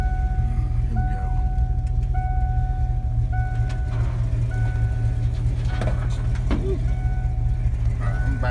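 A 1988 Mustang with an automatic transmission is driven onto a trailer, its engine rumbling steadily close by while repeated reversing beeps sound throughout.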